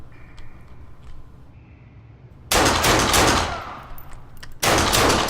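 Dual-wielded pistols in the video game Fallen Earth fire in two loud, rapid bursts of gunfire. A quieter stretch comes before them, and a short gap separates the bursts.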